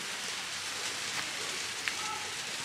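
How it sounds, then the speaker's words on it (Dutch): Steady rain patters and hisses throughout at a campsite in Loenen, Netherlands, a soft continuous wash with a few sharper drips. "Het regent."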